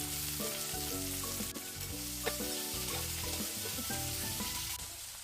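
Steady, close sizzling and crackling of chopped onions frying in hot oil, continuous throughout, with a sustained tonal layer underneath.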